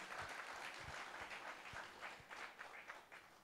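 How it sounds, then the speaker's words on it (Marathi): Audience applause at a Marathi stand-up comedy show, a dense wash of many hands clapping steadily for several seconds, loud and continuous with no voices over it. "परत एकदा जोरात टाळ्या होऊन दे"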